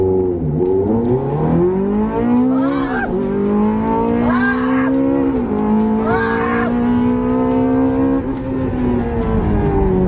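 A Ferrari supercar in race mode accelerates hard, its engine note climbing in loud, close surges with a dip at each gear change, the roar sustained throughout.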